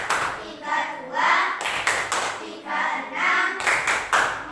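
Children in a fifth-grade primary classroom clap hands together in loud, group bursts that pause and restart in a steady counting rhythm, one burst per multiple of four.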